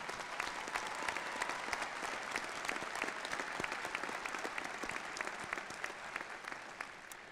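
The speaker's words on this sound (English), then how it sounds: "Please give this outstanding student a round of applause again." At a university winter commencement ceremony, an audience gives steady, sustained applause for a graduating student, a dense crackle of many hands clapping in a large hall that continues evenly without voices.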